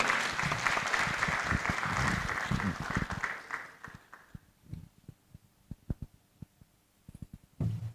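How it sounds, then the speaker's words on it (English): An audience applauds loudly in a hall to welcome the director of ISSER to the stage at an economic report launch; the dense clapping fades after about four seconds into a few scattered claps, then a brief burst returns at the end. "let's welcome with a loud round of applause the director of ISSER"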